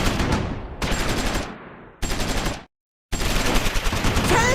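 Small arms fire in Close Combat 4, a World War II game: rapid automatic bursts in several loud stretches, cut by short pauses and one full silence before the shooting resumes.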